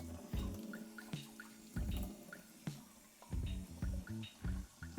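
Regular water poured into a cup, heard as a series of quiet, irregular splashes and drips with short gurgling bursts, close by and faint, with no talking over it.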